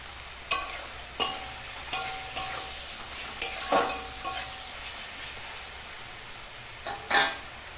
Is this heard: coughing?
no